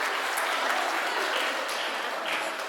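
Audience applause fills a 2024 veterinary school graduation ceremony in Mongolia: dense, steady clapping from many hands that holds at an even level throughout without a break.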